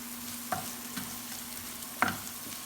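Garlic sizzles softly in a frying pan alongside potatoes and eggs, a faint steady hiss broken by a few sharp clinks and scrapes of stirring, with no one speaking.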